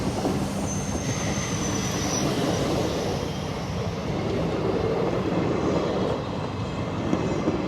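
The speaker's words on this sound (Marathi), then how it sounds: "माझ्या शेजारून ट्रेन चालली" A train runs right alongside near Ahilyanagar railway station, a loud continuous rumble with wheel squeal and rattling, steady throughout with no voices.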